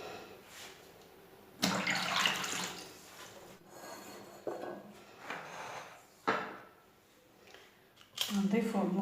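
Water gushes into a cooking pot for calentita in uneven bursts of pouring and splashing, with a voice talking between the pours.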